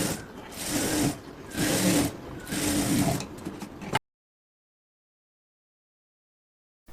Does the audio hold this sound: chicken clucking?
no